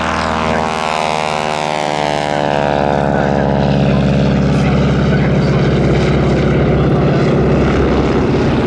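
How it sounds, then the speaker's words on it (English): A loud North American AT-6D Texan propeller aircraft engine drones continuously at an air show, its rasping buzz shifting in pitch as the plane passes close by. "here's a North American aeroplane making a rather different sound"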